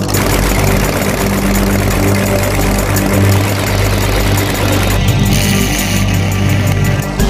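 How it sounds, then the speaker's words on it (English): Demolition derby cars roar at a New Paris, Indiana event, a dense, loud, continuous engine rumble with grinding mechanical clatter and a brighter surge near the end, with no talk. "It's a riot of swerving cars and roaring engines and flames"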